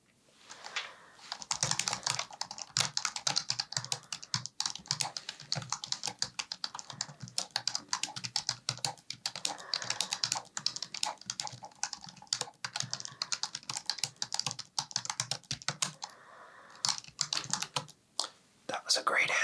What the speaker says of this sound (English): When you give your answers, I'll just be typing along here